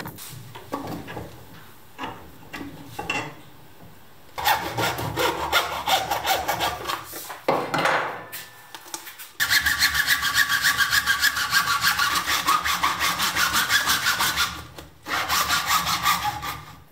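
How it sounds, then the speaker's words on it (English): Plastic bottles being sawn off by hand in a home tool shop, a rasping back-and-forth cutting that runs in loud bursts with brief pauses between strokes, close and alone. "first I want to cut off a couple of these bottles here"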